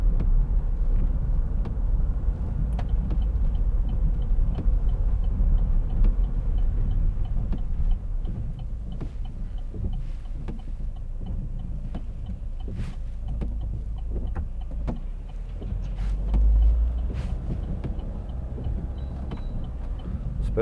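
Steady low rumble inside a 2011 Vauxhall Meriva 1.7 CDTi diesel on the move, constant road and engine drone with faint ticks and small bumps, no voices.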